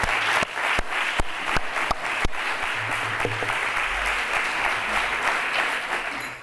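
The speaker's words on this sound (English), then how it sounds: "I would like to suggest that we give the organization committee a big applause" A conference audience applauding the organizing committee, a crowd of clapping hands with a few sharp, close claps standing out early, then settling into an even, sustained round that fades slightly at the end.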